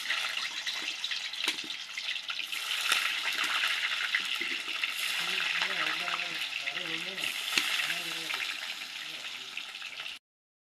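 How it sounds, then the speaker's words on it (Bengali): Chital fish cutlets fry in plenty of hot oil, giving a loud, continuous bubbling sizzle that holds steady before cutting off abruptly, with a faint voice partway through. "তেল গরম হয়ে গেছে, এক একটা করে ছেড়ে দিব তেলে"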